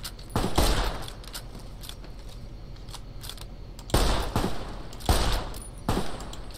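Gunfire crackles in Fallout New Vegas: a few sharp, loud volleys of rapid shots separated by quieter pauses, with no talking.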